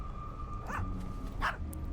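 Two short yelping dog barks from a World of Warcraft character wearing a Worgen mask, spaced about a second apart over a steady game-music hum, with no talking.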